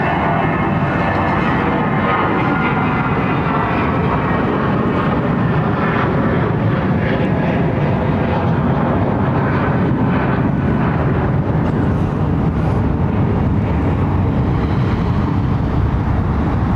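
A Boeing 747 at London Heathrow Airport gives a loud, steady jet engine roar that holds broad and continuous for the whole stretch, with no voices.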